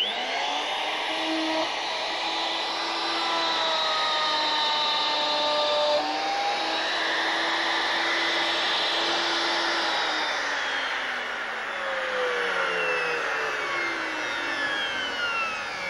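A Triton power tool cutting wood, running as a loud, steady, whining motor drone for the whole stretch, its pitch sliding slightly as the cut goes on.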